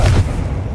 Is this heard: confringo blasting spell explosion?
yes